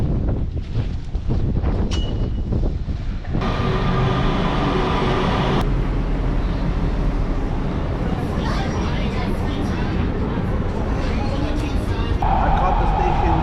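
A Los Angeles Metro train in motion, heard from inside a car as a loud, steady rumble and rushing roar with rattles and shifts in tone throughout.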